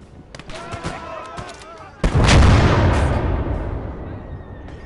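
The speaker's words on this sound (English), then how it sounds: "Yeah, that was a sniper, just took down that." A single loud, close sniper rifle shot in the Close Combat war game cracks out sharply, its boom rolling and slowly decaying over several seconds after earlier faint battlefield noise and a voice.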